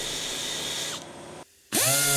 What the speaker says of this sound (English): And now I'm grinding away at the paint to give me another bit of metal